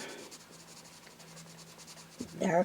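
Colored pencil burnished hard against paper while shading a rose gives a soft, continuous scratchy rubbing, faint and close, swelling louder in the final half second.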